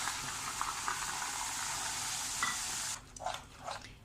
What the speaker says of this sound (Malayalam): ഈ നെയ്യിലേക്ക് ഞാൻ ഈ എടുത്തു വെച്ച കടലമാവ് ഇട്ട് കൊടുക്കുന്നുണ്ട്